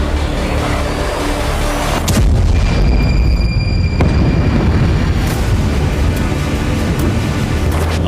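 Israeli air strikes in Lebanon, heard as loud, rumbling booming blasts over a constant roar of deep low noise, with a sharp burst partway through and no voices.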